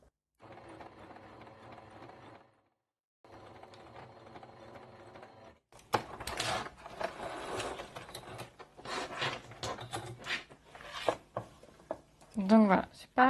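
A sewing machine stitches bias binding in two even mechanical whirring runs separated by a pause. It is followed by louder clattering and handling noise with someone speaking near the end.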